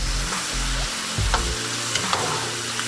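Portobello mushrooms fry in hot oil in a pan, a steady loud sizzle broken by a few scraping clatters and sharp taps as they are flipped, close up with no voices.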